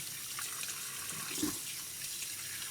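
Chicken skin rinsed by hand under a running kitchen tap, a steady close splash of water into a sink with a brief louder gush midway as the skin passes through the stream.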